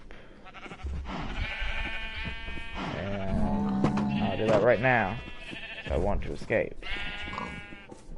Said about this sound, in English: The pink sheep won't allow me to pass.